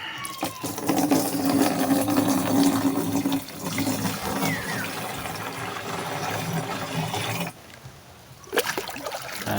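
Water is scooped from a low spring during a local water shortage, giving loud close splashing and pouring that rushes on for several seconds, stops, then resumes briefly.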